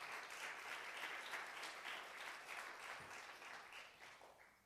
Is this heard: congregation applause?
yes